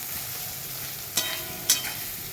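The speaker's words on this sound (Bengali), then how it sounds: "মশলাটা ভালো করে কষিয়ে নেবো।" Spice paste of coriander-cumin powder and ginger paste frying in a pan, a soft continuous sizzle with two brief sharp scrapes of a spatula, no talk.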